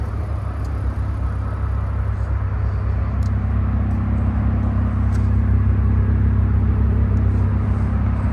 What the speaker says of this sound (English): Maybe it's a muffler delete, but it is loud.